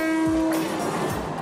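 A train horn blares with rumbling rail noise as a train moves through a trackside market in Thailand, loud and close.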